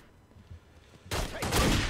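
Gunfire in The Godfather II video game, a sudden loud burst of rapid shots that starts partway through and continues to the end, following a quieter stretch.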